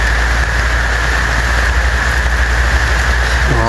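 Heavy rain pours in a dense, unbroken wash, loud and close, with a low rumbling hum underneath throughout.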